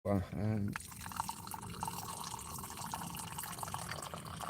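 Steady water pouring into a cup with a soft rushing, splashing texture, close by, preceded by a brief voice at the start.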